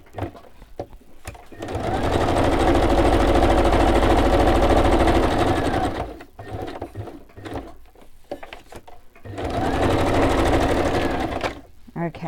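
A sewing machine stitches fabric for a handmade journal craft project: two sustained, loud mechanical whirring runs with steady rapid clatter, separated by pauses filled with handling noise.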